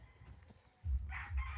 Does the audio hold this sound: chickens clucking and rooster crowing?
yes